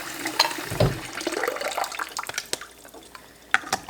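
Water trickles and splashes in short irregular bursts as it is poured into a fermentation airlock on a jar of fermenting hot sauce, close up, with small drips and clinks and no talking.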